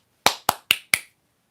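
Four quick, sharp hand claps played as a sound effect during a livestream, evenly spaced and close, each snapping off cleanly before silence.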